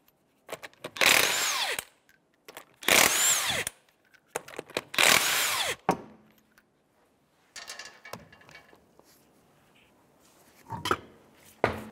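A power tool with a 19 mm socket whirs in three strong bursts while the lug nuts come off the passenger front wheel of a 2006-2013 Chevrolet Impala. Quieter clanks and shorter bursts follow, close by and without talk.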